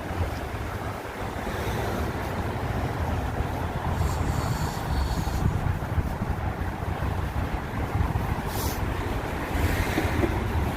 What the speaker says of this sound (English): Hoping that wind's going to die down real soon.